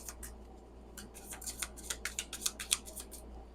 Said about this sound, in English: These cards shuffle so pretty.